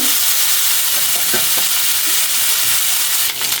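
Small mola fish fry in hot oil with a loud, continuous sizzle and crackle, a few faint clinks and stirring touches rising above the steady hiss.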